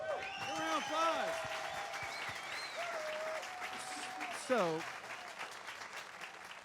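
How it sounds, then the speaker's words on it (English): An audience at a live Star Wars fan show inside a shop applauds warmly, with scattered cheers and whoops, while voices speak briefly over the clapping. "Round of applause."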